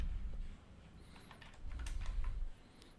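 Computer keyboard typing, a short close burst of soft key taps in two clusters, alone and quiet.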